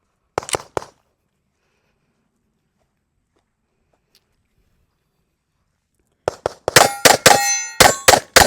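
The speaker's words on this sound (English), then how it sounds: "like the round hits the steel before you actually pull the trigger" A Smith & Wesson M&P 5.7 pistol fires 5.7 rounds at a steel target: a couple of sharp reports, a long silence, then a rapid string of shots with bright ringing clangs as the steel is hit.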